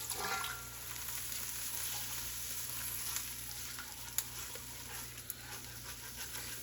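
Corn chowder gets stirred and scraped in a pot, a faint simmering hiss with soft scraping and a couple of sharp utensil knocks against the pot.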